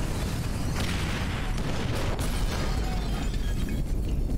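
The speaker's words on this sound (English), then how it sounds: "Detonate the incendiaries, Frank." Explosions from C4 charges detonating in the video game GTA 5 rumble as a dense, continuous roar with crackling bursts, loud and sustained throughout with no pause.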